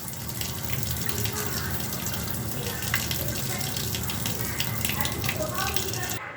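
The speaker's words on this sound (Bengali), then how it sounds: "বেসিনে জল ছাড়লেন আর এই ওপরের জলটা ডিকান্ট করে দেবেন" Starchy water from cooked rice is poured off from a pressure cooker into a sink basin. It makes a steady, fairly loud splashing gush that runs the whole time.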